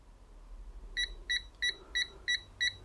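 TESMEN TM 510 multimeter's non-contact voltage detector beeping near a live outlet: six evenly spaced short electronic beeps, close and clear over a faint background hum.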